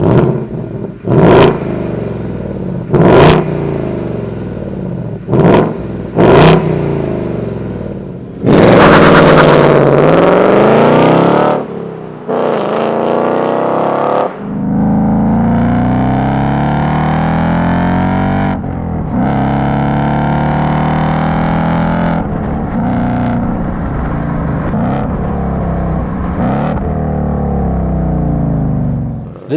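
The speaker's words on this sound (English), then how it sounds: "This is arguably one of the best sounding V8s on sale today." A 2022 Ford Mustang GT convertible's 5-liter V8 with active exhaust barks through several sharp blips, then roars in long, loud revving sweeps up and down, close and without talk.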